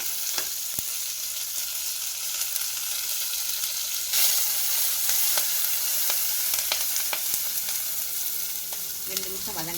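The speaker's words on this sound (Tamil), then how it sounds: "ரெண்டு நிமிஷம் வதங்கட்டும்" Small onions, seven or eight of them, sauté with finely chopped tomato in a pan, giving a steady close sizzle with a few light clicks of stirring throughout and no voices.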